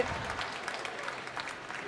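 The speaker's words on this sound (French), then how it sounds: "Des applaudissements pour Jérémy, s'il vous plaît, Marseille." Brief applause from an audience at a French coffee championship, a fairly quiet, steady patter of clapping with a few sharper individual claps standing out, lasting about two seconds.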